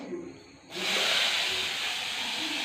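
Sliced onions hit a hot pan and burst into a loud, steady sizzle with steam, starting abruptly after a quieter moment and holding at full strength.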